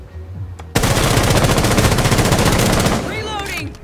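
Sustained automatic gunfire from a rifle in Rainbow Six Siege ranked play, loud and close, a rapid unbroken burst of shots lasting over two seconds after a brief quiet start, ending in a clattering mechanical tail.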